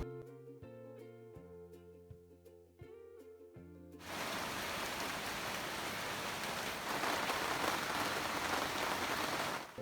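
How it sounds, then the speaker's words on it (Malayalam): Gentle music plays briefly, then gives way to a steady patter of light rain falling outside a home, continuous and unbroken to the end. "ഈ ടൈം പുറത്ത് ചെറുതായിട്ട് മഴക്കണ്ടേനി"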